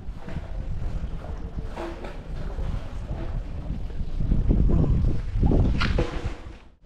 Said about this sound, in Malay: Hari ni cuaca okey tapi dia berangin.